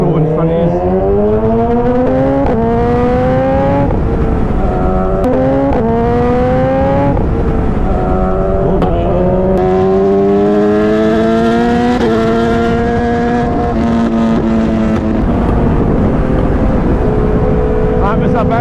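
A Suzuki GSX-S 1000 motorcycle with a quick shifter revving hard on an open road, its engine note rising in repeated stepped bursts as it clicks quickly through gears, loud and close with wind noise, and a voice briefly heard.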